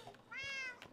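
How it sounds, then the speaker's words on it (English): Cats meowing in the Minecraft video game: a short, bright, rising-and-falling meow with a second fainter cry just after, fairly close and clear. "constant meowing of insanity"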